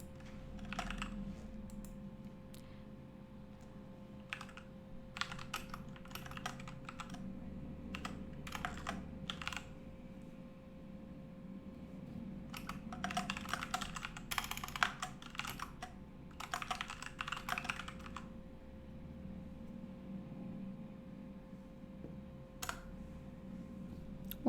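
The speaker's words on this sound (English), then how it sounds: "I'll type it in the chat." Steady clattering of keys on a computer keyboard in bursts of typing, close and fairly quiet, with short pauses between runs and no talking over it.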